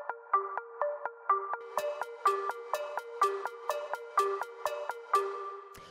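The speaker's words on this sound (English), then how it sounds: "So then the next layer that we've got going on here is this pluck" A synth pluck built from a layered FM sine tone and steel drum plays a bouncy melodic bass house pattern. Short, bright notes repeat in a steady rhythm, and percussive clicks join partway through. No voice is heard.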